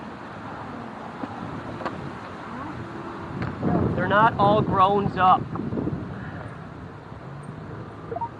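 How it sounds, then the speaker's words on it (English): Steady wind buffets the microphone throughout, a low rumbling roar with a brief burst of speech in the middle. "Annoyingly windy, again."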